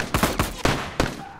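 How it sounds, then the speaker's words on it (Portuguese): Gunfire from a sniper rifle in the video game The Last of Us: several loud, close shots in quick succession, each a sharp crack followed by a short echoing tail. "Ele tem um rifle!"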